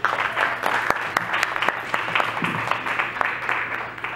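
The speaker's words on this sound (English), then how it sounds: "a round of applause" A seminar audience on human rights claps in a round of applause, with individual claps standing out in a moderately dense, fairly steady patter.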